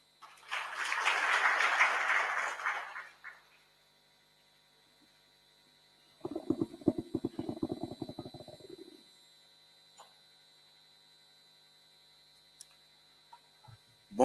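Audience applause at a business talk event, a dense swell of clapping lasting about three seconds, then a second burst of sharper, more scattered claps a few seconds later, with quiet hum in between.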